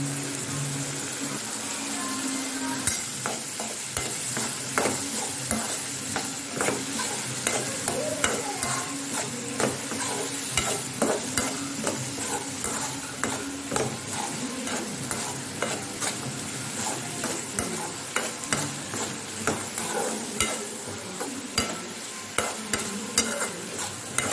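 Turkey berries (sundakkai) stir-fried in a pan with rock salt and fennel powder give a steady frying sizzle, broken by repeated close scrapes and clicks of a spoon stirring throughout, with no voices.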